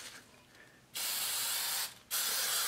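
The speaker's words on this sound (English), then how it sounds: "Spray a light coat of Easy Tack over this." Two bursts of spray hiss from an aerosol can of Easy Tack adhesive, the first about a second long and the second starting after a short pause.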